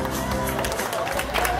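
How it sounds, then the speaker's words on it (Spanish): A crowd claps at a Teletón charity event in Arica, a steady wash of applause running under a loud announcer's voice, with some crowd noise swelling near the end. "¡Fuerte el aplauso!"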